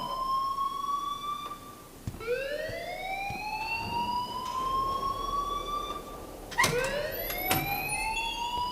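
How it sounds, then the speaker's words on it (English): A school alarm in the video game Life Is Strange wails loudly, its rising siren tone sweeping up and holding, then restarting, with no voices over it. "please turn off that alarm since that's your job"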